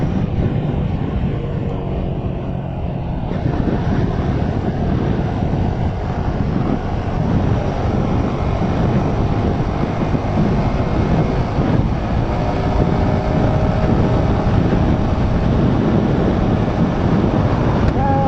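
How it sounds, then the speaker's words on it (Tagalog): Constant strong wind buffeting the microphone on a road at a former airport in Baungon, Bukidnon, with a dense, roaring rush that stays loud and unbroken from start to finish. "Lakas ng hangin."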